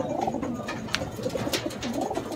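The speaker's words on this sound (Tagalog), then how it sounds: "Ito yung mga kalapate." Pigeons coo softly and repeatedly at a racing pigeon loft, a low rolling murmur of several birds close by with no voices over it.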